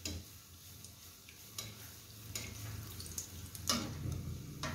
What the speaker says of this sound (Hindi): इन पे थोड़ा थोड़ा ऑयल डालते जाएंगे, गरम ऑयल।